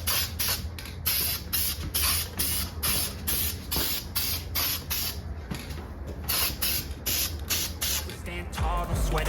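Aerosol spray can painting Honda Monkey motorcycle wheels black: rapid, repeated short hissing bursts in a quick, even rhythm, close and clear, with a brief clunk at the end.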